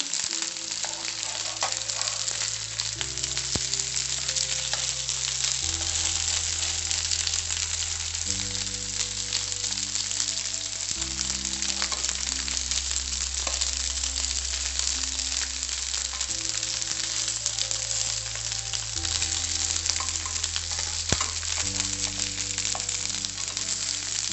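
Pathrode frying in coconut oil in a pan, a steady, even sizzle that runs unbroken for the whole stretch, with soft background music and no talking.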